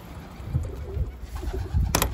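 A tumbler pigeon coos in low, soft, repeated murmurs close by, over a steady background hiss with a brief sharp noise near the end.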